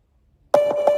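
A custom beep from a chat app's audio player starts abruptly after half a second of silence: a loud, steady mid-pitched tone that pulses slightly two or three times.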